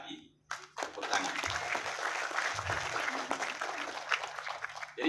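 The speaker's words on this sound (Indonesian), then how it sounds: "Tepuk tangan." An audience at a Forever Healthy Indonesia business presentation breaks into applause, a dense, steady wash of clapping that lasts several seconds at moderate volume.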